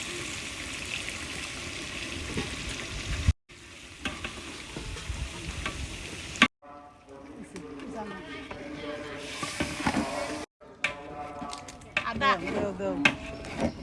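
Onions and tomatoes sizzle in a pot for chicken biryani while being stirred, with the frying heard in short segments separated by abrupt breaks and voices talking over the later part.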